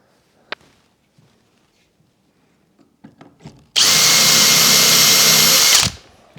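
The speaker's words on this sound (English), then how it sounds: "so I can just spot drill it to get started and then finish that here" A power drill spot-drills into an MDF workbench: a few soft knocks and handling taps, then a loud, steady high whine for about two seconds that cuts off abruptly.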